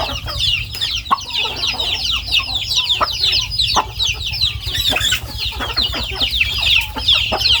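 Thai native chickens cluck and chatter continuously in a busy flock at morning feeding, with scattered sharp pecking taps and a low steady hum underneath.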